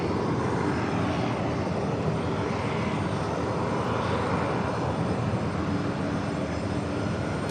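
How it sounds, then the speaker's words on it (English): A Delta Airbus A319 bound for Detroit takes off at JFK airport, a loud, steady engine roar that fills the whole stretch without letup or voices. "A319 taking off."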